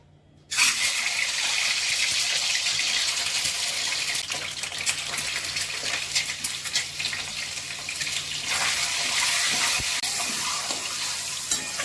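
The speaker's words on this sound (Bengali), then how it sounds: "এটা সর্ষের তেলে হবে ডিমগুলো ভেজে নিচ্ছি" Eggs frying in mustard oil in a pan, a sudden loud sizzle that starts after a brief quiet and keeps going as a continuous crackling hiss, close by.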